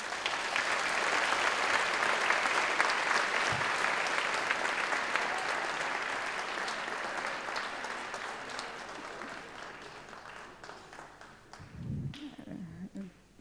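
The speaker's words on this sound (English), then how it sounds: "join us in giving an applaud to all our new graduates" Sustained applause from a large audience at a university graduation ceremony in Pretoria, a dense wash of clapping that gradually thins and fades toward the end, with a brief voice near the close.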